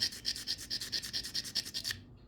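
A ruby is scraped against a diamond tester tool in about ten quick, evenly spaced rasping strokes, crisp and close, then it stops abruptly.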